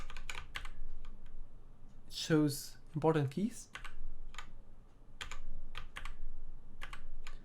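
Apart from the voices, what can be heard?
typing on DMK02 budget mechanical keyboard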